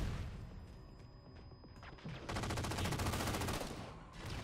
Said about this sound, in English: See? Incineration cannon.